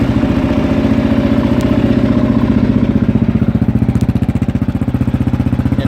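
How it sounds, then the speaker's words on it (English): A 2018 Kawasaki KLR650 dual-sport motorcycle idles loud and close, its throaty aftermarket exhaust burbling in a fast, uneven pulse throughout with no talking. "we put an exhaust on this one, so I'm going to fire it up"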